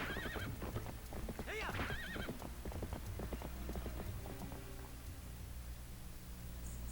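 A horse in The Legend of Zelda: Twilight Princess gallops with rapid clip-clopping hooves and lets out a couple of warbling neighs early on, the hoofbeats continuing steadily under faint background noise.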